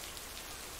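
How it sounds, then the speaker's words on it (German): Loud, steady rain pattering hard on a surface close by, a dense unbroken hiss from start to finish with no voices. "es regnet sehr laut"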